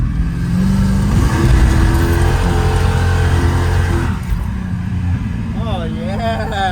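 A Ford Thunderbird's engine revs and roars loudly up close as the car is tested, sustained for several seconds with shifting pitch, while people talk over it.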